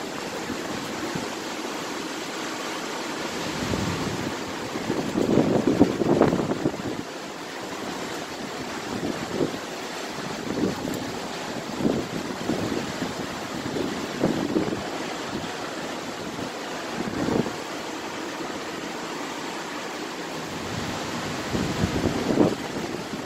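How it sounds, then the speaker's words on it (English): Wind from Tropical Storm Nicole blows outdoors on Merritt Island, Florida, in November 2022, a continuous roar with gusts that swell and fade over the microphone, and no voices. "here's some of the wind that's going on"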